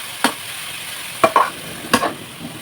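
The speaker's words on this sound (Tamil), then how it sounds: "கரண்டி எடுத்து லோ ஃப்ளேம்லே தான் கொஞ்சம் மிக்ஸ் பண்ணிக்கோங்க." A ladle stirs beetroot halwa in a pan over a low flame, making four brief scraping strokes spaced over a soft, steady sizzle, close and alone.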